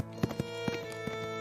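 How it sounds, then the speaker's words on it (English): Horse galloping as an audio drama effect: quick irregular hoof thuds, four or five hits in under two seconds, set under a sustained musical score. "He grabbed a shovel, tarp, rope, and his horse and galloped back to Tucker's body."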